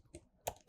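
Two or three quick, faint key taps on a computer keyboard, spaced unevenly and heard alone without speech.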